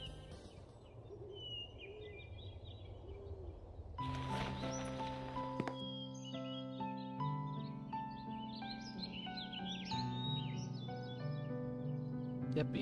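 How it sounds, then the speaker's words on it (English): Bird calls in a game area called Soulstream: soft chirps and tweets at a distance, joined by louder music and layered game sounds partway through. "Yep, even with the bird noises."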